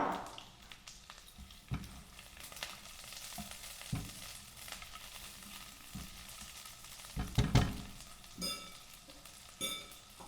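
Chopped onion sizzles steadily in a pan already used to fry beans and potatoes, with occasional stirring scrapes and clinks over the continuous frying hiss, no talk.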